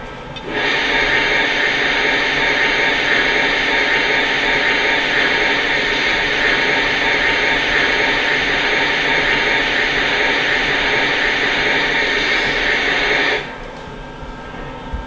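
Steady hissing chuff-like steam from the cylinders of a Lionel Erie 2-10-4 Texas model steam locomotive, a loud, continuous broadband hiss lasting about thirteen seconds before cutting off, no talking.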